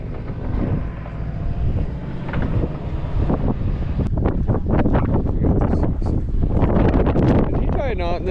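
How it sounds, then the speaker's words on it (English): Strong wind of about 50 miles an hour buffets the microphone outdoors on a ranch, a loud constant roaring rumble, with people talking over it. "the wind's blowing like 50 miles an hour right now"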